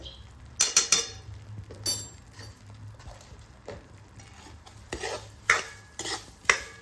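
Semolina roasting in ghee for sheera, stirred with a metal spoon: soft scraping strokes and a few sharp clinks against the pan, close but fairly quiet, no voices.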